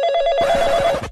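A telephone bell rings in a cartoon scene, a single short electronic trill of rapid pulses that cuts off abruptly, loud and close with no talk over it.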